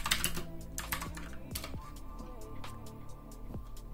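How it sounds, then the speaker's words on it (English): Rapid clicking of commands typed on a computer keyboard into a Raspberry Pi terminal, close and fairly quiet, with uneven bursts of keystrokes running throughout. "Move into the folder by typing cd and this GitHub repository name."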